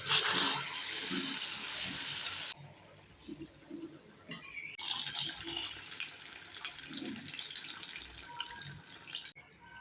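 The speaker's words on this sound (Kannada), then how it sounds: "ಚೆನ್ನಾಗಿ ಫ್ರೈ ಆಗಿದೆ ಎಣ್ಣೆಯಲ್ಲಿ." Aloo bonda, potato balls in batter, deep-frying in hot oil, giving a close, continuous bubbling hiss that starts loud, drops suddenly, then swells again with uneven crackle.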